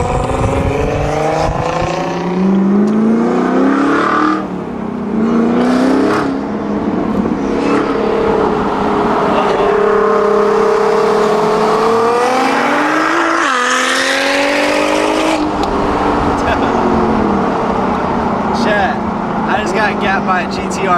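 A 1500hp Nissan GTR races a Camaro ZL1 1LE, engines droning and rising in pitch through long pulls, loud and close throughout, with a voice talking over the roar.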